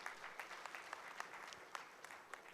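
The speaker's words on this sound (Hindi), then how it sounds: "मैं चाहता हूं एक जोरदार तालियां इनके लिए होनी चाहिए।" Audience at a poultry federation annual general meeting in Coimbatore applauds its officials, a steady wash of many hands clapping at moderate distance with a few sharper claps poking through.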